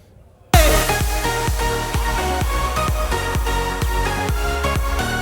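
A loud electronic dance track with no mastering kicks in after a brief quiet moment, driven by a steady pounding kick drum and dense synth layers.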